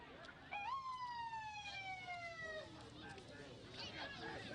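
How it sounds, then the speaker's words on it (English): A wailing siren rises and holds steady, then fades, with crowd noise and voices murmuring in the background throughout, during the May 31, 2020 street protests and looting, with police in riot gear. "You can hear the sounds of the sirens."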